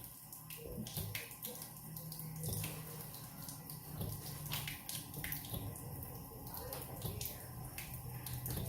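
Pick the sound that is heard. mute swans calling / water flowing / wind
water flowing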